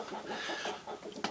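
Broody hen in a henhouse, soft short clucks in an uneven run, close and fairly quiet.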